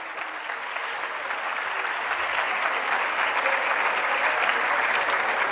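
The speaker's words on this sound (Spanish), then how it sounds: "a quien vuelvo a pedirle un fuerte aplauso" A university audience at a student leadership showcase in Puerto Rico gives sustained, loud applause, with dense, even clapping from a large crowd that continues without a break.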